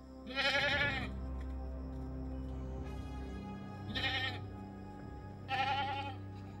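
Goats bleat in three loud, wavering bursts, each about half a second to a second long, close by with a low steady hum between them and no voices.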